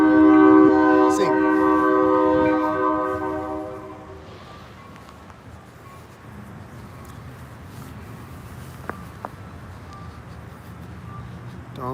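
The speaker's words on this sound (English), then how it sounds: "I think the train horn went off when that car drove in front of me" A train horn sounds loud and sustained for the first four seconds, then cuts off, leaving road and traffic noise with a car passing nearby.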